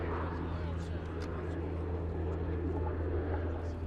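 OV-10 Bronco twin-turboprop aircraft flying a flat 360 turn at the RAF Cosford airshow: a steady, loud drone with a low propeller hum that holds constant throughout, with no talk over it.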